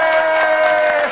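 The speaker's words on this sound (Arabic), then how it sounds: "عطونا تصفيقة على عايدة ومبارك مناد" A studio audience briefly applauds and cheers for the winning pair Aida and Mebarek Menad at a styling challenge show, with loud, dense clapping over a bright musical tone.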